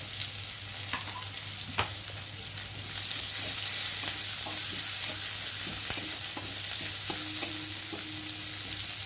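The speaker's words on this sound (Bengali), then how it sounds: "আর এখন আমি পেঁয়াজগুলোকে দিয়ে ভালো করে ভেজে নেব।" Onions frying in hot oil give a steady close sizzle throughout, broken by occasional spatula scrapes and clicks against the pan; no voices.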